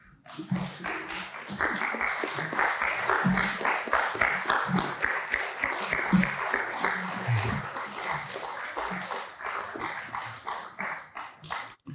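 A cohort of youth commission graduates in Gwinnett County stand and give a round of applause, a dense, sustained crowd clapping that holds steady for the full stretch before tapering at the end.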